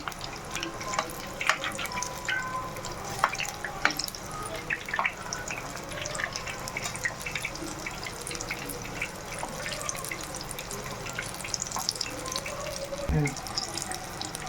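Bhaji batter pieces frying in plenty of hot oil, a steady dense sizzle and crackle running the whole time with scattered pops and light clinks, close and fairly loud.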